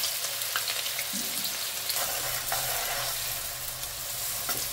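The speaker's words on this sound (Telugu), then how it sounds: "బాగా నూనెలో వేయించుకుందాం." Thinly sliced onions, two large ones, fry in hot oil with a dense, steady, close sizzle and occasional faint stirring scrapes, with no talking.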